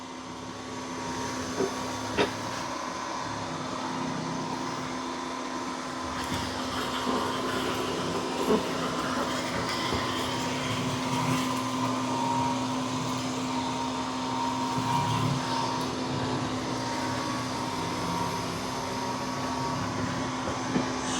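A MOVA Z60 robot vacuum cleans a room floor in straight back-and-forth lines, giving a continuous, even, moderate motor whine and airflow hum with occasional small bumps and clicks.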